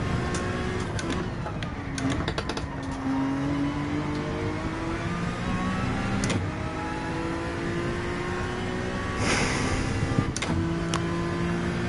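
A race car engine in Gran Turismo 7 revs high and bounces off the rev limiter, a continuous loud buzzing drone with rising and shifting pitch and brief sharp stutters.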